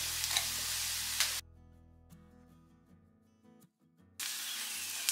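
Raisins dropped into hot oil or ghee in a pan, with cashews, for Ramadan thari kanji: loud steady sizzling that cuts out abruptly for a few seconds of near silence, then returns just as strong.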